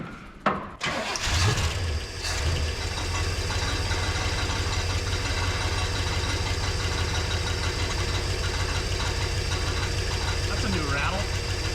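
An Oldsmobile Vista Cruiser station wagon with a 455 V8, long abandoned, cranks with a few sharp bursts, catches and settles into a loud, steady, rumbling idle up close for the rest of the clip.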